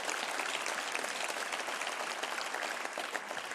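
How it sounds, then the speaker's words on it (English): A large audience at the opening event of Denmark's EU presidency breaks into steady, sustained applause, a dense wash of clapping heard from a distance that holds evenly throughout without speech. "so you have to applaud once more"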